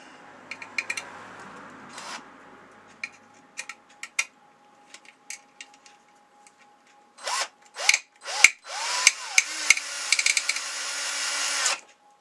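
A power tool unscrews a fastener during a DIY job. Scattered light knocks and clicks come first, then several loud, close whirring bursts, each rising in pitch, end in a sustained run.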